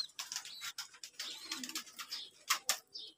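Pigeons kept indoors in a cool spot after a deworming course coo and chirp softly in short repeated bursts, close by and faint, with no talking.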